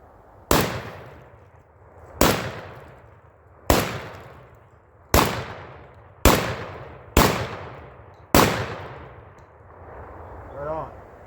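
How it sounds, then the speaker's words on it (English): A Panzer EG200 shotgun fires Winchester bulk pack shells outdoors at a steep downward angle toward tree stumps: seven loud, sharp blasts at uneven intervals, each with a ringing tail, and no talking. "We're going to be shooting at a steep down angle with some stumps in front of us."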